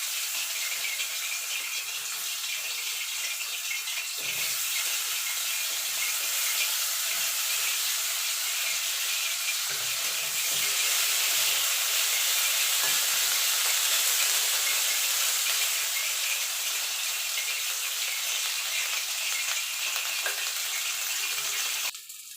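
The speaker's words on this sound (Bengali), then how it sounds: "এই তেলে বেগুনগুলো ভেজে তুলে নেব" Eggplant pieces fry in hot oil with a steady, bright sizzling hiss that holds for over twenty seconds, close by and without voices, with a few soft bumps underneath.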